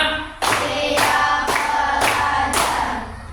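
A classroom of students claps in unison, five sharp group claps spaced about half a second apart in a steady rhythm, loud and close, with no talking.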